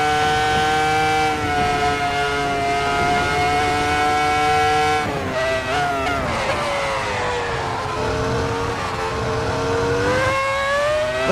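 A race car engine in a racing sim game revs hard and steadily, its loud whine rising and falling with gear changes, close and continuous without talk.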